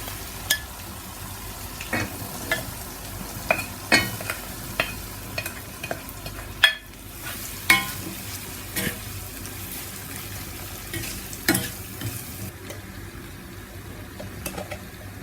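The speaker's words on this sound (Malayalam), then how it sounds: "ഈ അരിഞ്ഞു വെച്ച മുളക് പുരട്ടി വെച്ച മാങ്ങേനെ ഇതിലേക്ക് ഇട്ട് കൊടുക്കുകയാണ്" A spoon scrapes and stirs repeatedly through chili-coated mango pieces in a hot tempering pan, with a steady low sizzle underneath and sharp clinks at irregular intervals.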